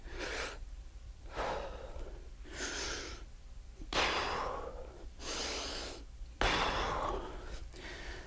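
Heavy, rhythmic breathing during a functional fitness workout, with about six forceful inhales and exhales spaced roughly a second apart, close and clear with no talk.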